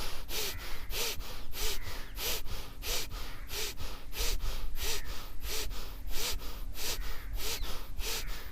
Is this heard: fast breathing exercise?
yes